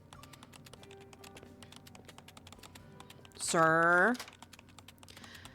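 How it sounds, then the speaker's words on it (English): Rapid typing on a computer keyboard in a bedroom, a steady run of light click-clack keystrokes throughout, briefly interrupted by a short spoken word. "His slender fingers swiftly dance across the keyboard, producing a constant click-clack sound."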